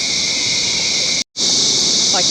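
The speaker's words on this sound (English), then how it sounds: "you can hear all the cicadas and the crickets in the background" Cicadas and crickets in a tropical rainforest in Far North Queensland, a dense, continuous high-pitched buzzing chorus that is loud and steady, broken only by a brief gap.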